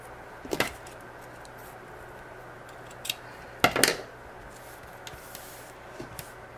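Scissors snip the end off a paper tag card in a few short, sharp cuts spaced apart, close and clear in a quiet room.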